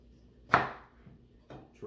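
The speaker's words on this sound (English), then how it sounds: "we are going to cut the lid and just go all the way down" A knife slices the top off a bell pepper being carved into a pepper jack-o'-lantern for chili stuffed peppers, giving one crisp, close cutting crunch followed by a softer second cut.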